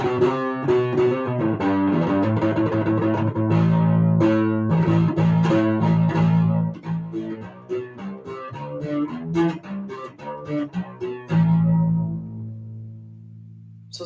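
A distorted, boosted U-Bass played through an HX Stomp plays a crunchy riff of repeated low notes, loud and sustained, then briefly drops out before a final held note.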